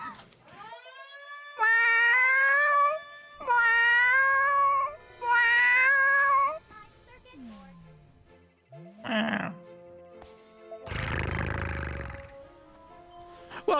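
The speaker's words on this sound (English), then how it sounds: "That's what the intruder alarm sounds like when there's a cat." Cat meows serve as an intruder alarm in the video game A Hat in Time, three loud wailing meow bursts in a row, followed by softer game sounds and a broad noisy blast near the end.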